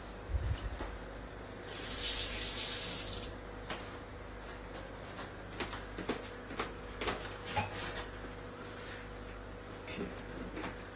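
A butter knife rinsed under a running kitchen tap: a brief rush of water, then scattered clinks and handling noises close by, with some talk in the background.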